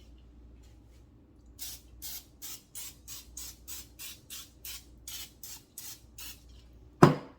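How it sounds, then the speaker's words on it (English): Canola oil cooking spray hisses out in about fourteen short, evenly spaced bursts, close and fairly loud, followed by a sharp clatter at the end. "I'm going to spray these."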